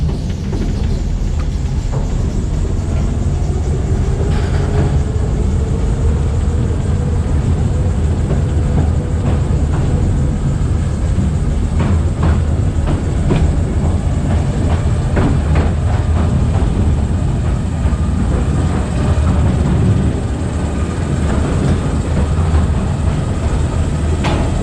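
An underground Mail Rail postal train rumbles along its track in a tunnel, a continuous loud, low roar with rattling wheel clicks and metallic squeals, and no voices.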